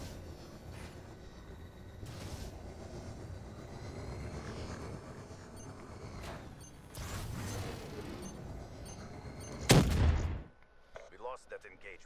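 Sporadic gunfire in a video game cracks out at a distance among engine drone and background noise, with one sharper, louder burst near the end.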